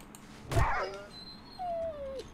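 Feral dog in the video game 7 Days to Die gives a sharp yelp, then a thin, drawn-out whimper that slides downward, fairly faint against a quiet background.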